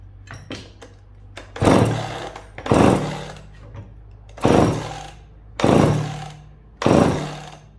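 Pull cord on a McCulloch chainsaw with the choke set, yanked five times in a roughly even rhythm, each pull a loud rasping burst that fades out; the engine never catches and runs.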